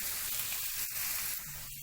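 A hot pan of vegetables for wheat noodles hisses with a soft, even sizzle while it is stirred, faint and brief, with a couple of light scrapes before the sound drops away.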